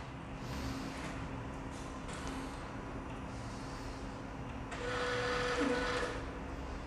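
A DTG printer hums steadily through a nozzle check, its mechanical whir holding even before a louder, brighter stretch of motor noise near the end.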